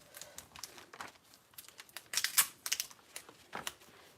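Washi tape being pulled, torn and pressed over the hinges of a handmade journal built from trash, a series of close crinkling rips and rustles in irregular bursts, no talking.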